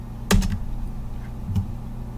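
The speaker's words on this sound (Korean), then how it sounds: "방향키 위로 올리면 이전에 쳤던 명령어 엔터." Keys on a computer keyboard clack in a quiet room, a quick pair of presses early and another single tap a bit over a second later.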